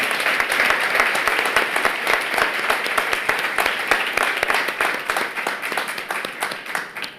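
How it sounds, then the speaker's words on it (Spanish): Hearty audience applause for two speakers after a talk on anti-aging: dense, loud clapping with crisp individual claps standing out near the front, sustained throughout before gradually thinning at the end. "Un fuerte aplauso a Margarita Zamora y Milagros Quiñones."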